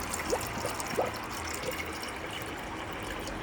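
Coolant poured into a Nissan 350Z radiator during a coolant flush: a steady liquid trickle and filling wash under a constant background hiss, with a few faint clinks, no speech.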